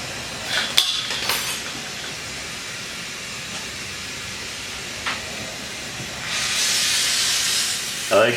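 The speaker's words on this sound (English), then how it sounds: "I like to use this Smith little torch to melt these tiny detailed things in" A Smith Little Torch flame heats the bail of an opal pendant in jewelry work. A steady roaring hiss rises near the end after a few faint clinks and quiet background noise.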